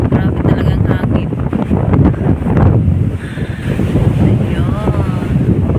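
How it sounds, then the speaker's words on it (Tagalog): Strong wind at the sea buffets the microphone with a continuous rough roar, with faint surf beneath and brief voices. "Grabe talagang hangin."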